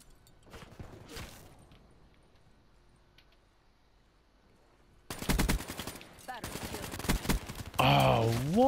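Rapid automatic gunfire in a first-person shooter game, quiet scattered shots at first, then a loud dense barrage of sustained bursts in the second half, with a voice talking over parts of it.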